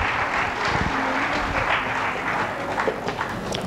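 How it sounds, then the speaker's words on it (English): An audience at a scientific conference on meditation and stress applauds a presenter taking the stage, a steady wash of clapping at moderate volume throughout. "Please give him a big round of applause"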